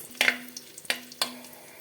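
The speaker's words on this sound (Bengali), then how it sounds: "অল্প ঘি দিলাম অল্প সাদা তেল ভেজে নেব কিশমিশ" Raisins fry in a little ghee and white oil for a chana dal dish, with a soft sizzle under three sharp spoon scrapes against the pan.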